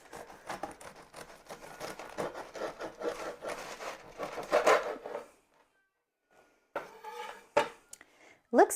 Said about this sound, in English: Let's cut a slice.